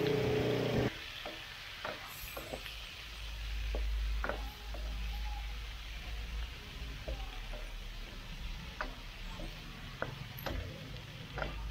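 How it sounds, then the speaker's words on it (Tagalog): Shrimp and onion frying in a pan with oyster sauce, being stirred: a steady soft sizzle runs throughout, broken by scattered clicks and taps of the utensil against the pan. "Kailangan haluin natin ng maayos ang hipon"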